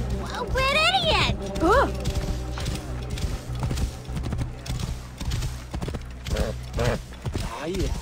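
Horse hooves clip-clop steadily through a crowded scene in the video game Assassin's Creed Origins, with game music, shouting voices and brief whinnies mixed over the rhythmic hoofbeats.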